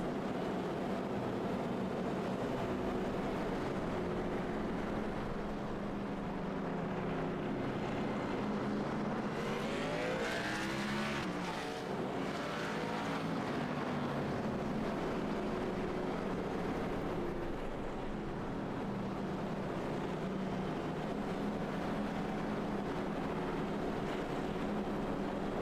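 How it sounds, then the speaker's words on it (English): Onboard race car engine in a sim racing video game at Martinsville, a steady loud engine drone throughout with a brief pitch sweep midway, no talk. "It sounds like we're going on board here with Dylan Canova. He might be saving some fuel. Turning off the engine."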